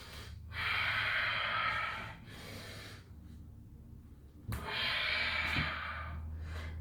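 Two deep, audible inhalations through the nose during a yoga sun salutation, each lasting about two seconds and breathy, with a quieter pause between them and a soft low hum underneath.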